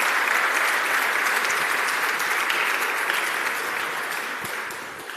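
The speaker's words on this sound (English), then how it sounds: "A big applause for him." Audience applause at a Bitcoin summit livestream in Buenos Aires, as a presenter is welcomed to the stage: dense, sustained clapping from a large crowd, steady for several seconds before tapering slightly near the end.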